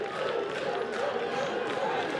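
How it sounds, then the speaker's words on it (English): Crowd noise at a Little League baseball game between La Grange, Kentucky and Hamilton, Ohio: a steady wash of cheering and scattered clapping from the stands, fairly distant and continuous for a couple of seconds. "The crowd's fired up."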